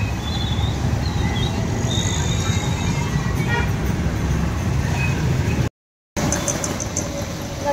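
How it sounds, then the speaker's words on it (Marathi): Busy morning traffic rumbles along a road under a cloudy sky, with a constant loud roar of cars and buses, faint horn toots above it, and a brief silent break near the end. "सकाळ सकाळी या रस्त्याला एवढा गाड्यांचा आवाज येतो"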